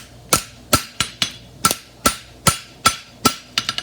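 A hammer strikes a horseshoe while finishing the sidebone, ringing out in about a dozen sharp, close metallic blows at a steady, slightly uneven rhythm, with a quick cluster of lighter taps at the end.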